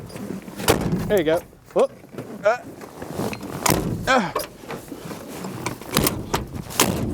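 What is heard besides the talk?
car door of an old Barracuda being shut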